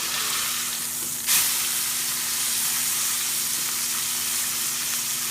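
A bighorn sheep burger patty, seasoned with kosher salt, garlic and pepper, sizzles steadily in a hot pan just after being flipped, with a sharp burst of hiss at the turn and constant close frying alone.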